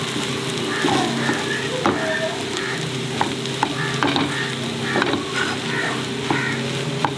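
A coarse potato filling for masala dosa is stirred as it fries in a pan, producing a continuous loud sizzle with intermittent scraping knocks of the spoon, heard close.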